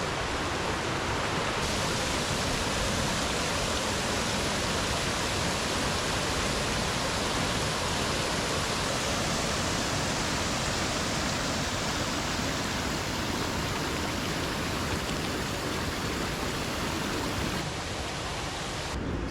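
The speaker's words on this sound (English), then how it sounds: "Had a lot of rain recently, so you can really hear the stream here is really moving." A stream runs fast and high after heavy rain, giving a dense, steady rushing roar close by that stays even and unbroken with no voices.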